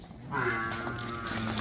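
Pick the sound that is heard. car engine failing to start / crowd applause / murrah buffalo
murrah buffalo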